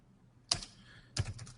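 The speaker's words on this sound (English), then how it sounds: "So we'll type in here" Keys clatter on a computer keyboard as an officer ID is entered into a form, two short bursts of close typing separated by a brief pause, with no talking.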